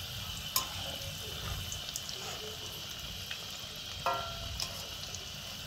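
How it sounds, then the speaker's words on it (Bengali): Chira (poha) cutlets fry on low heat in a pan with a steady, soft sizzle throughout, broken by a few light clicks and stirring taps, and no voices. "কাটলেটটাকে কিন্তু অবশ্যই হালকা আঁচে ভেজে নেবেন"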